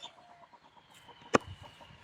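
A chicken in a village yard where greens are being prepared, giving soft intermittent clucks over about two seconds, faint and close, with one sharp knock partway through.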